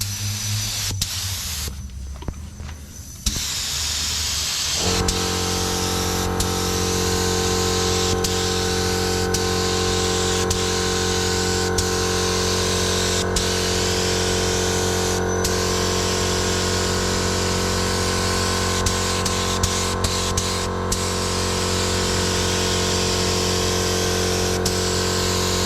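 A spray gun applying Raptor coating to an 1988 luxury car, a loud continuous hiss with a strong steady compressor drone underneath, after a brief shuffling start, with no talking.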